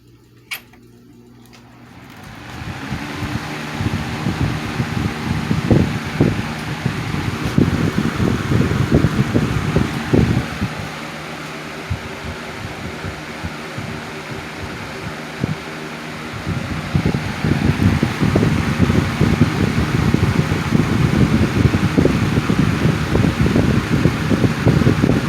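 Patton 12-inch rotary box fan running with its front guard loosened, giving a steady whooshing airflow with loud irregular rattling and buzzing that swells, eases briefly, then returns strongly for the rest of the run.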